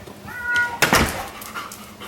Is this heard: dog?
yes